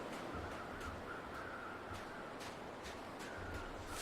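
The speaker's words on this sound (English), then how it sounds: "Birds again." Crows cawing in the snowy wilderness of the survival video game The Long Dark, faint scattered calls over a steady wind-like background hiss, with no talking.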